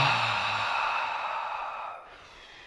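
A single long forceful exhale pushed out from the abdomen during a breathing exercise, close and breathy, fading away after about two seconds.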